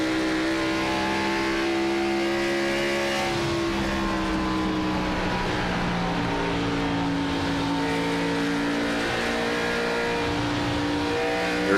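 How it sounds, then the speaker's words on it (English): A race car in a Rush Championship Series event at Dover Motor Speedway sustains a loud, close engine note as the driver modulates throttle, the pitch wavering up and down steadily for about twelve seconds with no voices. "Here's just how much throttle modulation is going down for Thompson"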